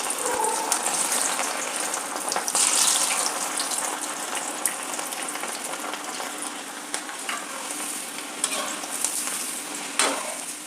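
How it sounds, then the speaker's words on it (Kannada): Soaked chana dal frying in hot oil, a steady bright sizzle with occasional stirring scrapes and small crackles, close and continuous with no talk. "ಈಗ ಕಡಲೆಬೇಳೆ ನೆನೆಸಿಟ್ಟಿದ್ನಲ್ಲ ಅದನ್ನು ಕರ್ಕೊಳ್ತೀನಿ"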